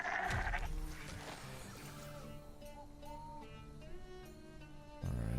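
A goat in Runescape: Dragonwilds gives a few wavering bleats at moderate volume, between brief bursts of louder game noise at the start and end.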